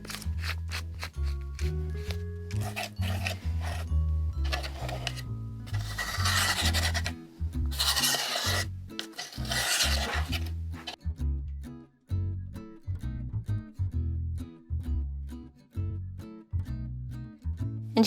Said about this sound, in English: You just want to scoop and scrape the bottom of that pot to get the bigger egg chunks as that is cooking.